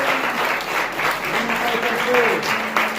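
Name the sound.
congregation applauding in church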